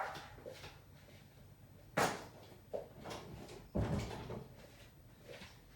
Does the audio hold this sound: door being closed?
yes